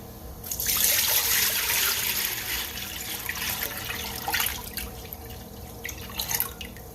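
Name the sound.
water pouring into a pot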